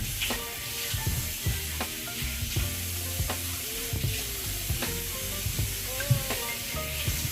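Thyme dropped into a hot pan for Hennessey chicken, crackling into a steady close sizzle broken by light stirring clicks and scrapes, with no talking.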